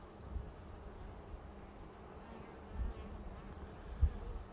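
Honeybees hum in a low, steady drone at an Apimaye insulated beehive during a hive inspection, with a couple of brief thumps near the end.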